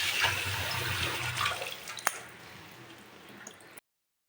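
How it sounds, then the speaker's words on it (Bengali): Fish is rinsed under running tap water, a soft continuous splashing gush with a sharp knock partway through, fading slightly before cutting off, with no talking. "তো চলো মাছটা ধুয়ে নিই"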